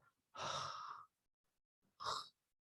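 Two audible mouth exhalations, a longer breathy puff of about two-thirds of a second followed after a pause by a shorter one, close and clear with no talking.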